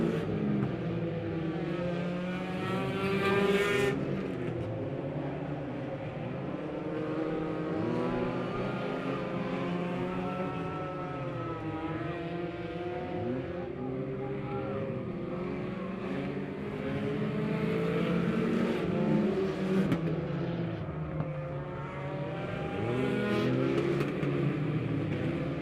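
Race cars roar steadily around an oval dirt track at a memorial feature race, engines droning and surging continuously with rising and falling pitch as the field circles, loud and sustained throughout.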